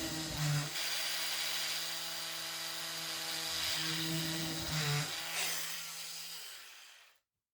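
A small power drill bores cable holes in a Peco Code 100 model railway turnout, giving a close, high whine with short revving bursts before it spins down and stops.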